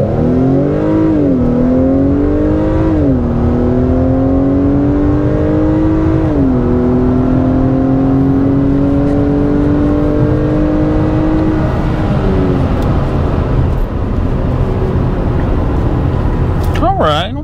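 A 2021 Acura TLX A-Spec engine revs up hard through several gear shifts from 0 to 60 in sport mode, pitch climbing then dropping at each change, loud and close for a sustained full-throttle run.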